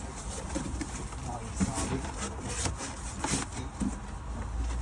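Soft pigeon cooing mixed with a steady background hum and faint rustling, with low murmuring voices nearby throughout.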